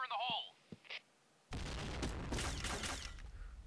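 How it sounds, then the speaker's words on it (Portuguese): Gunfire in the shooter game Point Blank, a dense burst of rapid shots and booms after brief game sounds and a short pause, loud and sustained with a person talking over it. "Os caras tão atirando aqui."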